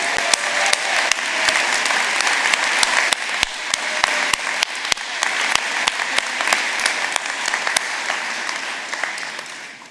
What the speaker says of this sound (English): Could you join me in a round of applause for them?